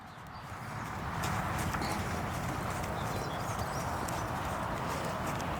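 Horse trotting on long reins, its hooves giving a dense, steady clip-clop rhythm against a continuous background, moderately close and even in loudness throughout.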